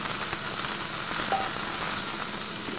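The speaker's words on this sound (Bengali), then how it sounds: "তো আমি কেটে রাখা আলুগুলো তেলের ওপর দিয়ে ভেজে নেব" Cut potatoes frying in hot mustard oil in a frying pan, a soft, steady sizzle at low level with no one talking.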